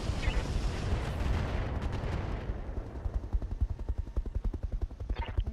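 Artillery fires on a target in a war game: loud, close, rumbling blasts give way to a rapid, rhythmic pounding that pulses steadily to the end.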